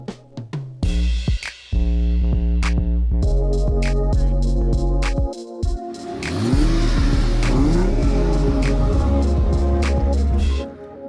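A 2002 Mercedes C32 AMG revs hard and accelerates, its engine rising and falling with a high supercharger whine, loud and close, with brief lifts between pulls and no talking.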